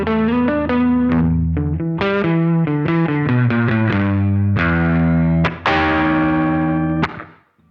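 Electric guitar running through a pedal with its tone control set to the middle, giving crunchy distorted picked notes and chord stabs in a quick rhythmic phrase. Loud and close, with no talk, closing on a ringing chord that fades.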